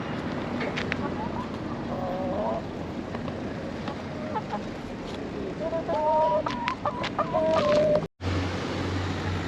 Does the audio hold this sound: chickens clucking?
yes